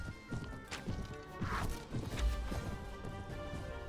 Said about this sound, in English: I'm thankful to be on a slightly faster horse